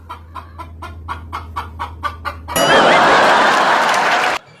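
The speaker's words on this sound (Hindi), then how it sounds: "मुर्गी फौरन सही सलामत जिंदा खड़ी होकर आवाज निकालने लगी।" A chicken clucks in about ten short, evenly spaced calls, then a loud, harsh burst of noise cuts in.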